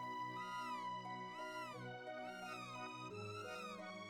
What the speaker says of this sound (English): That is an interesting cat sound.